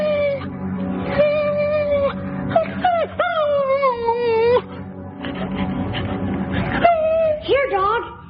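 A dog whines and howls indoors on a cold October day, with long rising and falling wails and short whimpers repeating close by, alone without talk.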